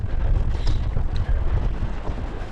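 Gusty bora wind blows along the Karst edge, a steady loud rumble buffeting the microphone with brief dips and no voices.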